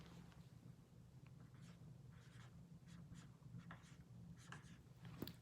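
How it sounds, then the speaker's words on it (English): Marker writing a word on a small board in a guided reading lesson, faint squeaky strokes in short bursts over a low room hum. "Let's write that word"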